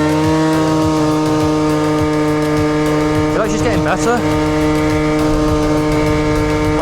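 A rebuilt scooter engine with nearly 700 miles on it runs steadily during a ride, a loud continuous buzzing drone with a brief rev rise and fall midway, while the rider talks over it.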